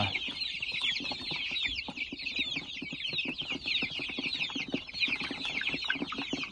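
Many chicks and chickens cluck and chatter together in a steady, busy flock, fairly quiet and continuous throughout.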